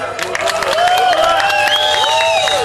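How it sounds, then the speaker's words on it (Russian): Crowd applause at a biker rally's embroidered-shirt (vyshyvanka) contest in Uman, steady clapping and cheering throughout, with voices and whistle-like tones over the top. "Давайте ему поаплодируем."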